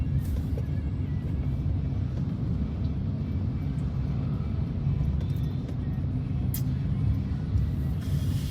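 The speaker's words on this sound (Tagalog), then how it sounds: "So medyo traffic" Road traffic on Roxas Boulevard in Manila rumbles continuously, with low engine drone and passing vehicles close by and a few faint higher hisses, like air brakes.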